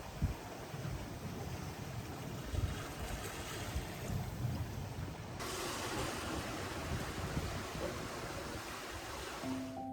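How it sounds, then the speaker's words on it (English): A sailboat running downwind on open water, with a steady wash of wind and waves around the hull that stays continuous throughout and grows slightly brighter partway through, with no talk. "A beautiful downwind sail took us to our next anchorage that night."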